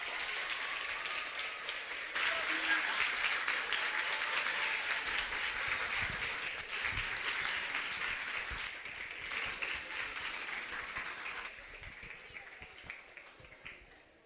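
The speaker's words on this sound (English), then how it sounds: "Give him a round of applause." Sustained applause from a school audience in Hanover, Jamaica, greeting Prime Minister Andrew Holness, a dense, even roar of clapping that carries on for a long stretch before thinning toward the end.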